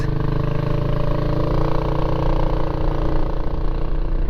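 A Kymco Xciting 500 scooter engine runs steadily as the bike rolls along, a continuous close, loud drone with an even low hum and no pauses.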